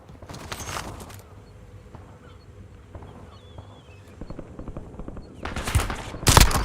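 Gunfire in Call of Duty, with a burst of rapid shots at the start, quieter scattered shots and game sounds in between, and a loud renewed burst near the end.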